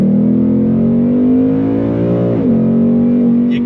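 A 2022 Ford Mustang GT in Grabber Blue, with a 10-speed automatic, revs hard under hot throttle, its loud close V8 note holding steady, then dipping and climbing again.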